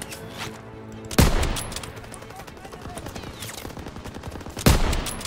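Machine gun fire in the Call of Duty: WWII video game, heavy bursts and loud booming impacts amid a chaotic battle, with voices shouting over the noise.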